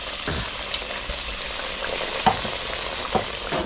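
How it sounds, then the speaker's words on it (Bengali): Moglai paratha pieces frying in hot oil: a continuous bubbling sizzle, close and steady, with a few light clicks and taps of utensils scattered through. "হ্যাঁ তেলে ছাড়ছি এক একটা মোগলাই"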